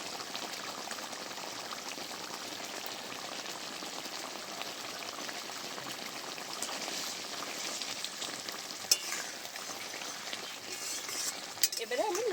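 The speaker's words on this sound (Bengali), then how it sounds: "এবারে নেড়ে চেড়ে বাদ বাকি আর যা মশলা আছে দিয়ে দেবো" A vegetarian fish curry of spiced banana is stirred in a pan with meat masala and garam masala, a low steady simmer with faint scraping, a few sharper clinks near the end.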